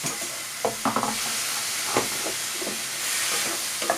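Onions and garlic fry in a pan with a close, steady sizzle, broken by a few quick scraping stirs and clicks of a utensil against the pan.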